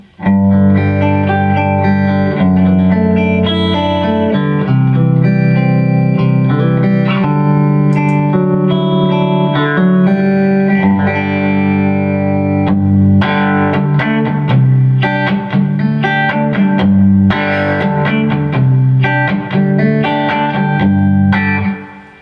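Electric guitar tone from a Collings 290 fitted with Throbak P90 pickups, played through a 10-watt Carr Super Bee 1x12 combo with the volume rolled back for a cleaner sound. Sustained chords and single notes ring out steadily and loud, with no talking.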